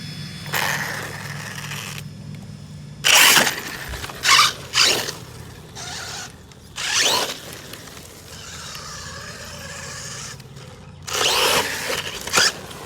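Electric RC motor on a test bench with a swapped ESC, running badly: several loud, rough whirring bursts of a second or so, separated by quieter gaps, close by with no talk.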